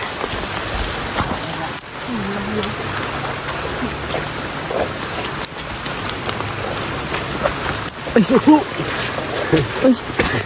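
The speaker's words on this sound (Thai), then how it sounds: "วันนี้ฝนตกด้วย" Rain falling steadily on a mountain trip near a river crossing, a continuous close patter and hiss heard under ongoing talk, with a few louder splashes toward the end.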